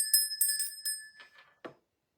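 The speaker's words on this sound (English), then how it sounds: "I'm gonna ring the" A small bell rings several times in quick succession, bright and close, with a sustained metallic tone that fades out, followed by a brief soft knock; no talking.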